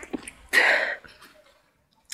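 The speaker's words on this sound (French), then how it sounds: "attention je vais éternuer" A single sneeze bursts out sharply after a soft intake of breath, close and fairly loud, then fades into quiet with faint rustling.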